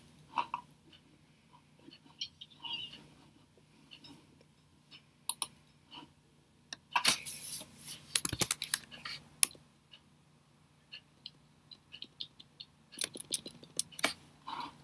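Irregular clicks and key taps on a computer keyboard, quiet and close, coming in scattered bursts with a denser flurry in the middle and another toward the end, over a low steady hum.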